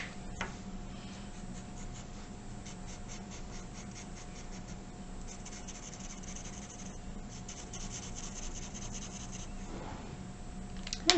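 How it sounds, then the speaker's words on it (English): A drawn flower stem being coloured on paper with marker, crayon or coloured pencil: soft continuous scratchy strokes that rub back and forth close up, with no talk. "Finally, I'm going to color my stem."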